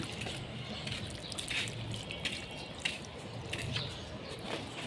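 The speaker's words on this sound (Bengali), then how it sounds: "আমি গাছে দেওয়ার জন্য পানি দেওয়ার জন্য চলে আসলাম আমি গাছে পানি দিচ্ছি" Water splashing and dripping onto plant leaves and soil in soft, irregular spurts as plants are watered, close by and fairly quiet.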